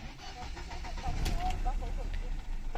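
Mercedes-Benz W124 with a K-Jetronic to EFI conversion cranking and catching, a short starter whir rising into a steady mid-pitched idle, recorded close with background chatter.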